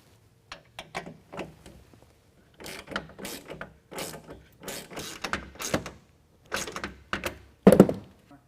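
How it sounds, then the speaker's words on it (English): Torx bolts being tightened with a T27 driver while mounting a BAK Revolver X4s tonneau cover rail on a 2020 Jeep Gladiator, heard as a run of short ratcheting clicks and mechanical taps in bursts, ending in a louder thunk. "now using a T27, we can go ahead and tighten these Torx bolts down"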